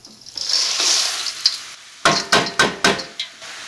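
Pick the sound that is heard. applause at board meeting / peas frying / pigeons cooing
peas frying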